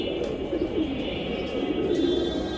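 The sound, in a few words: pigeons cooing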